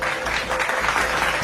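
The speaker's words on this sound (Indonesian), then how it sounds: "Tolong beri tepuk tangan untuk Dina dan ucapkan selamat kepada Dina." Classmates in an animated school scene break into applause for a girl who won first place, a short burst of dense, even clapping filling the moment with no speech over it.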